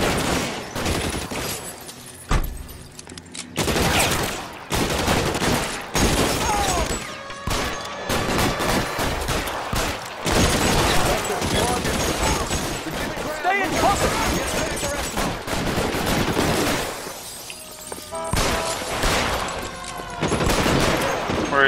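Rapid bursts of Tommy gun fire from the video game L.A. Noire clatter loudly and almost continuously, with scattered single shots and impacts in between; someone talks now and then over the gunfire.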